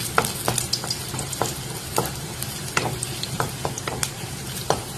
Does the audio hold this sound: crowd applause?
no